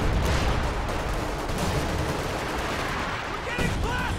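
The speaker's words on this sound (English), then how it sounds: "Is that a major artillery?" A major artillery strike in Company of Heroes 2 rumbles as a heavy barrage of booming impacts and crackling gunfire, loud and sustained, with a commentator's voice over the battle noise.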